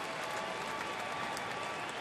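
A baseball stadium crowd of over 41,000 at a Cincinnati at Milwaukee game cheers and applauds in a dense, steady roar of clapping and voices throughout.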